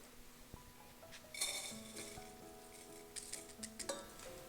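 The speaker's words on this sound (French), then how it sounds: "Et je mets dans la casserole." Wet soaked rice tipped into a saucepan in a home kitchen, giving faint clinks and light scraping of grains against the metal pan, a few soft knocks and rattles spread over several seconds, close and quiet with no talking.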